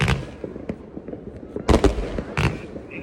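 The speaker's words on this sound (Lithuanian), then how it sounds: "11 vakaro pradėjo sproginėti pirmieji fejerverkai" New Year's Eve fireworks and firecrackers go off over Vilnius, with several sharp bangs and crackles at varying distances over a low background hum.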